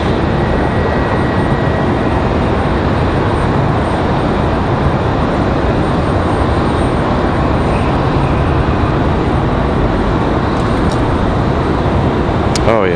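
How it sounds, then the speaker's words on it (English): Breeze Airways Airbus A220 jet at night near Raleigh Durham airport, a steady loud broadband engine roar filling the whole stretch with a faint whine on top, no talk. "Got a Breeze Airways A220. You guys might be able to hear that one singing the A220 song."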